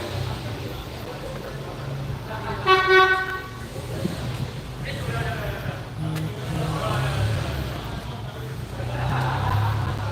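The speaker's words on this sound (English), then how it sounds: "Air horn." A vehicle air horn gives one loud, brassy blast at a motor workshop in Singapore, set against engine rumble and nearby voices.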